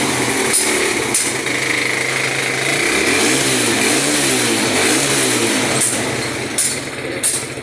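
A motorcycle engine idling and revving up close, a loud continuous mechanical rattle with pulsing rises in pitch midway and some clanks near the end.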